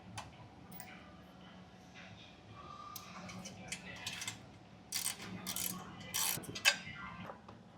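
A ratchet clicks as it tightens bolts on a Royal Enfield Himalayan 452 accessory mount, starting faint and growing into louder close bursts of rapid clicking.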